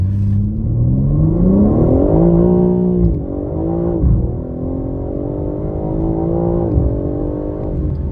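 A BMW M3 Touring with 530 hp pulls hard from a standstill in automatic drive mode, its engine note climbing loudly and dropping at each self-shifted gear change, several upshifts in sequence, close and continuous with no talk.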